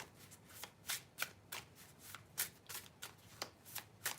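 A deck of tarot cards shuffled by hand in steady repeated riffles and flicks, close and fairly quiet, with no talking, before a card is drawn.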